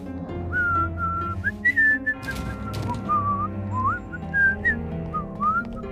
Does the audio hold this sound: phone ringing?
no